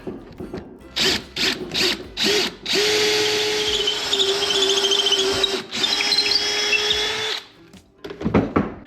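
A power drill bores into an aluminum boat's transom, whirring in short bursts, then running steadily for several seconds before stopping, loud and close.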